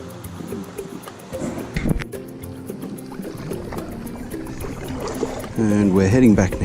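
A paddle dips and pulls through the water as a small boat heads downstream on the Dumbea River, with soft splashes and trickling close by and a voice speaking over them.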